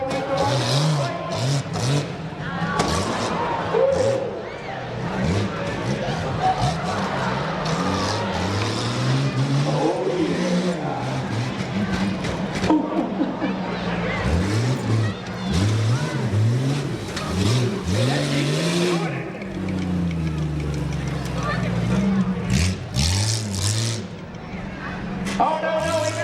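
A rear-wheel drive truck races a rough truck course at the Columbiana County Fair, its engine revving and surging loudly, with a crowd and an announcer talking over it.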